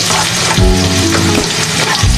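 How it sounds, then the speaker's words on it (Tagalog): Garlic and onion sauté in a hot pan for a chicken in white sauce, giving a steady close sizzle with stirring scrapes and a low hum throughout, no talking. "Sinula po natin yung ating bawang. At yung ating sibuyas."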